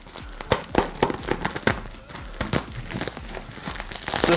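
Cardboard and plastic shipping packaging around a Turnigy Fabrikator Mini 3D printer being cut open and pulled apart, with steady close crinkling, crunching and tearing that builds toward the end.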